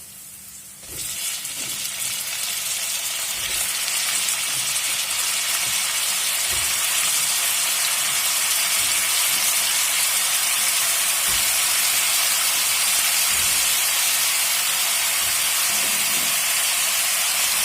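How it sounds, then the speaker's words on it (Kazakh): Carrots fry in oil in a pan with a loud, continuous sizzle and hiss that starts abruptly and holds steady. Faint knocks sound underneath, and no one talks. "Міне морковымыз қуырылып жатыр."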